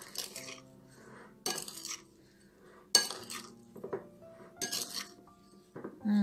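Marinated quail eggs are mixed in a bowl, making several separate bursts of clinking and scraping with quiet gaps between them, close and fairly soft, plus a short low thud at the very end.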